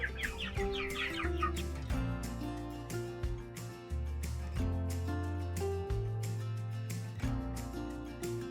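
Chickens cluck and chirp on an off-grid homestead, with brief bursts in the first second or so, set against steady background music that carries through the whole passage.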